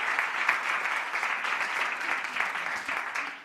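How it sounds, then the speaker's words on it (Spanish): An audience gives steady, continuous applause for Yanire at a fashion-themed talk event, a dense even wash of many hands clapping, moderately loud and alone. "Un aplauso para Yanire."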